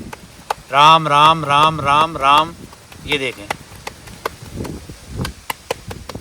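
A guru slaps tikkad flatbread dough by hand on the bank of the Narmada, making a series of sharp, separate pats after a stretch of chanted voice, with talk nearby.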